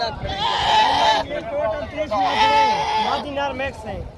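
Goats bleating loudly and close at a busy livestock market, with several long wavering calls over a murmur of crowd chatter.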